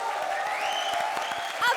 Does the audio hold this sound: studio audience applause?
yes